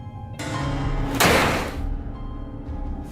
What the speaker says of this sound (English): he returns inside and the door slams shut